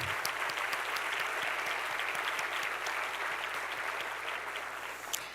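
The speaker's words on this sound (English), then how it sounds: "A round of applause for our" A sustained round of applause from an event audience fills the space evenly, dense and steady throughout, tapering slightly near the end.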